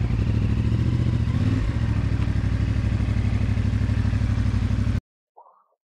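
A CFMOTO 450MT motorcycle engine hums steadily while riding through a turn, a near, even mid-pitched drone that cuts off abruptly, followed by a brief faint sound.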